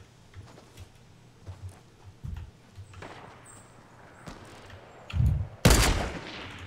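Sniper rifle fire in Fortnite sounds as a few sharp cracks, the loudest a big report near the end, over softer in-game thumps and footsteps, with no clear talk.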